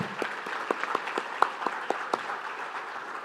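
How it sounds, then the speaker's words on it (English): A small audience applauds at a breast cancer survivors' event, with moderately close, individual claps forming an uneven patter that holds steady and then thins slightly. "I think that in itself is worth a round of applause"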